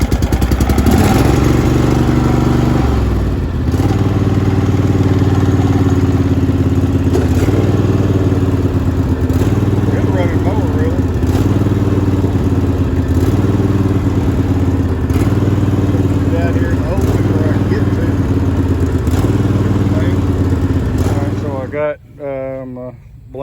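A Craftsman riding lawn mower engine runs steadily and loudly at close range with a rough, clattering drone, then cuts off abruptly near the end.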